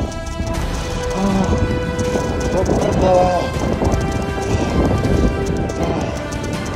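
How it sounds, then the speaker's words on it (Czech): Heavy rain pours steadily in a thunderstorm in the Slovak mountains, with low rumbling thunder throughout and a person's voice briefly cutting in. "Ty vole, bouřka."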